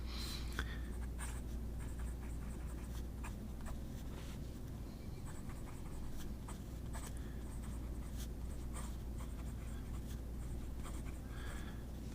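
A titanium T1 pen scratches across paper in quiet, close strokes that come in short irregular bursts over a low steady background hum. No one talks.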